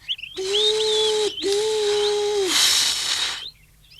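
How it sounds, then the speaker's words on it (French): Two steamboats' whistles blow together in a long, loud, steady blast, break briefly, then sound again. A burst of hissing steam from the boilers follows and fades, with the boats pulling away in a race. "Et les deux bateaux commencent à avancer et sifflent tant qu'ils peuvent."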